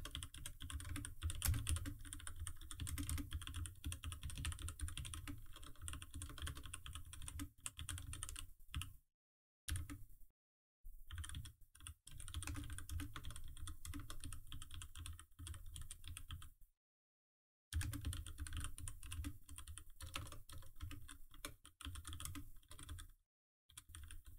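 Keys clatter on a computer keyboard in quick, steady bursts as a course description is typed, with a few short pauses between runs; close and fairly quiet.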